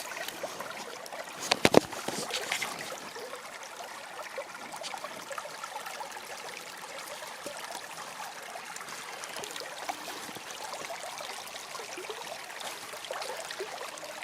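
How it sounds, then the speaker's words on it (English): Spring meltwater streams out of a pond where the last ice still clings, a steady broadband rush and trickle with a brief louder splash early on. "get to watch this water come out of the pond."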